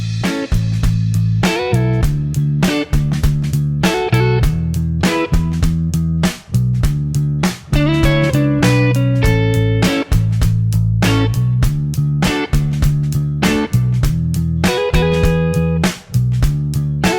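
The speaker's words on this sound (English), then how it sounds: "So I'm going to kick a backing track on and play these licks" A guitar plays soul Motown licks over a backing track with a steady beat and bass, loud and rhythmic with frequent crisp strikes throughout and no talking.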